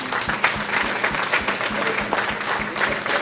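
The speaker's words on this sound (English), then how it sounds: "Let's give everyone a round of applause." A crowd at a candidates forum claps in a steady round of applause, dense and close, with a few sharper individual claps standing out and no talk over it.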